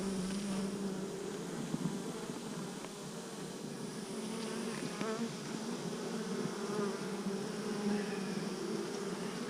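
Honeybees buzzing steadily around an extremely weak hive outdoors on a cloudy day, a continuous dense drone close by with no voices.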